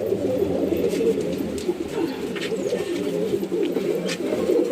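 Male Madras pigeons coo continuously up close, low throaty rolling calls layered over one another in a dense loft chorus, with faint background noises but no talking.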